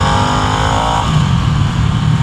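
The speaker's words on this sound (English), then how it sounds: "High revving engine that is completely different from your normal Harley." A Harley-Davidson Nightster with its high-revving Revolution Max engine revs hard and loud, a steady close-up motor roar whose pitch climbs and then holds under riding wind, with no talking.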